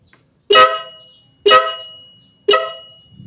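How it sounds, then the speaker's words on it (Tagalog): An upgraded aftermarket horn on a KTM Duke 200 motorcycle honks three times in an even rhythm, each a sharp, loud blast that fades quickly, with silence between. "Ito po yung kanyang upgraded na busina."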